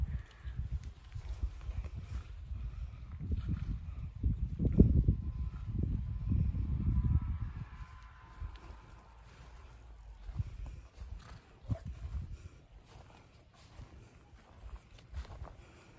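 Low thudding hoofbeats of young horses running over ground at turnout, a cluster of heavier beats in the middle that thins into scattered steps.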